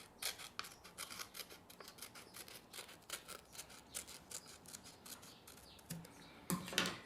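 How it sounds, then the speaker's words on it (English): Scissors snip through paper while making a paper helicopter, a quick run of soft crisp cuts in an irregular rhythm, close but quiet, ending with a couple of louder snips. "it's okay to use scissors here"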